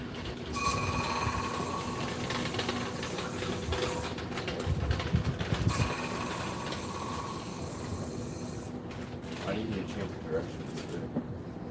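Grinder working a chef's knife blade held against an aluminum heat sink, a steady loud mechanical whir and scraping drone with tonal hum, pausing briefly partway, as a person talks over it.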